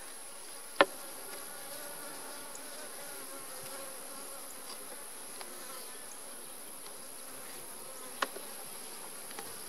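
Honeybees hum steadily at an opened hive during an inspection. The buzz is soft and even throughout, with a couple of faint clicks and no voices.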